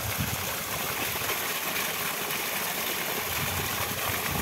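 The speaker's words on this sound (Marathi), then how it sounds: "बघा एवढं पाणी मारते आमच्या बोरचं" A borewell pump on a farm runs steadily, its low engine hum blending with a continuous rush of gushing water, moderately quiet and unbroken throughout.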